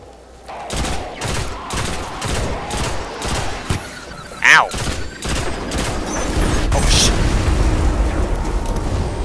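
Exploding SIVA shanks in the Destiny: Rise of Iron shooter, with a series of sharp blasts and booming bursts amid game effects, a swooping tone near the middle and a rising rumble toward the end.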